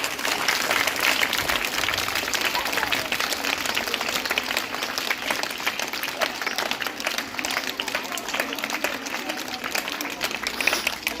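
Sustained audience applause fills a village primary school retirement ceremony, dense clapping from a large crowd continuing steadily and loud throughout with no break.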